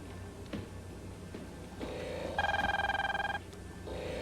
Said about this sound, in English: Answer the phone, George